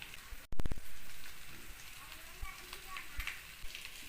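Potatoes frying with garlic, asafoetida, chilli powder and garam masala in a pan give a steady hiss and crackle, with a sharp louder burst near the start and scattered pops afterward, close and moderately loud.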